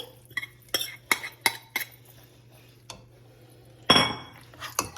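Drained, rinsed tuna going into a tuna casserole, with sharp metal utensil clinks and taps against the dish in an irregular run, then a louder scraping clatter near the end, close and clear.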